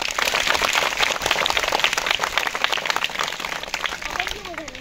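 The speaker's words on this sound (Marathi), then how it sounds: "जोरदार टाळ्या वाजवा" Loud, dense applause from a crowd at a school event, rapid clapping sustained throughout, with a voice faintly audible near the end.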